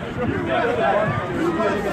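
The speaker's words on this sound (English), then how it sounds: "Awesome crowd!" Rally crowd in Boston producing a continuous murmur of chatter and voices, steady and fairly loud throughout, with no single speaker standing out.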